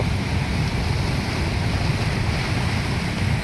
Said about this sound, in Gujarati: આખી નદીમાં પાણી આવેલું જાય.